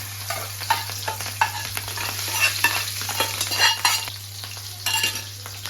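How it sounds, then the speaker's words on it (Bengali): Pieces of fish frying in hot oil in a pan, ahead of cooking with potatoes and fish roe: a steady close crackling sizzle with recurring scraping stir strokes, no voices. "এই যে তেল দিয়ে দিয়ে দিয়েছি আগে মাছটা দিব"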